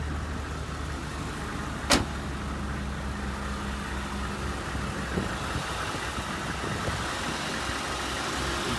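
A 1988 Oldsmobile Cutlass Ciera idling after a cold start, with a steady, even engine hum throughout and one sharp knock early on, followed by a softer one later.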